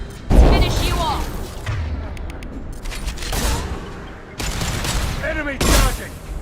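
Gunfire and explosive booms in the Mass Effect 2 video game, loud bursts of fusillade rolling through a busy combat scene, mixed under voiced combat callouts.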